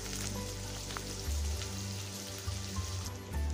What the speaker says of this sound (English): Add the chopped onions,